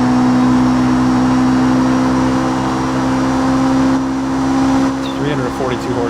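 Car engine in the BeamNG driving game, rated around 342 horsepower, droning steadily at high revs with a loud sustained tone that shifts near the end as a voice talks over it.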